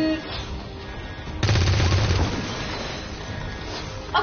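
Gunfire in the video game XCOM 2: a sudden loud burst of rapid shots lasting about a second over a constant game background hum, then fading into the ambience.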